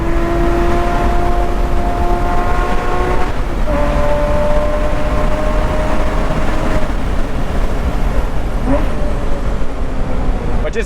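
A Porsche Spider with a lightweight flywheel accelerating, its engine note climbing steadily through the gears with a brief drop at the shift, loud and close over heavy road and wind roar inside the cabin.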